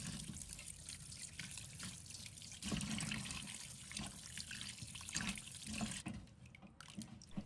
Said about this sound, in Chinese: 首先需要将其用流动水冲洗干净